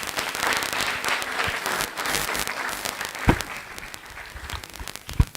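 An audience at a mental health public lecture at KMTC in Nairobi breaks into brisk applause, dense clapping with a few sharp, loud claps standing out as it tapers off.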